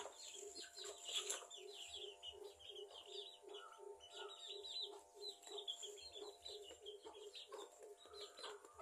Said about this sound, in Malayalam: കോഴിക്കുഞ്ഞുങ്ങളാണ് വരുന്നത്.